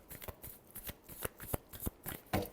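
Tarot cards shuffled by hand, a quick run of crisp riffling flutters and sharp snaps at close range, with no talking.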